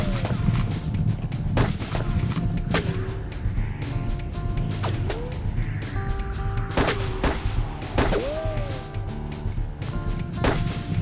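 Gunfire in the Red Dead Redemption game rings out as scattered loud shots spread over a busy battle bed, with whistling ricochets and rumbling background noise throughout and no talk heard.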